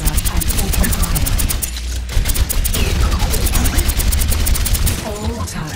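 Rapid automatic rifle fire from the Soldier 76 character in the Overwatch training range, with dense repeated shots in sustained bursts and a brief pause partway through, loud and close with game effects mixed in.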